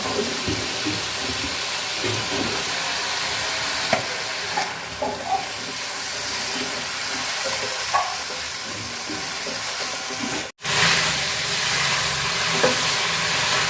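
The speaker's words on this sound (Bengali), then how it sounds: "ফুলকপিগুলো আমি সুন্দর করে কষাই নিচ্ছি, ভাজা ভাজা করে নিচ্ছি একদম।" Cauliflower stir-fried with spices in a pan, a steady close sizzle with frequent scraping stirs throughout, one brief drop to near silence before the frying resumes.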